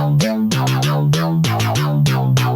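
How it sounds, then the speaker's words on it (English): Synth bass designed in Serum with a custom wavetable, played with drums: a buzzy, harmonically rich bass line stepping between notes under sharp rhythmic drum hits, loud and upfront. "I did make the bass in Serum"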